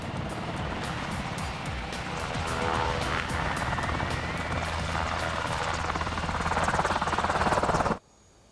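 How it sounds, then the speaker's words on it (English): A Black Hawk military utility helicopter in its HH-60L medevac version thunders close by with a steady, rapid rotor chop. The whine builds louder toward the end, then cuts off abruptly. "This is the HH-60L, the latest version of the Medevac Black Hawk helicopter."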